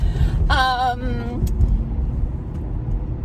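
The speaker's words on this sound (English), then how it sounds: "the recycling truck is driving on the wrong side of the road" A recycling truck drives along a country road, a steady low engine rumble filling the whole stretch, with a brief voice over it and faint traffic noise in the background.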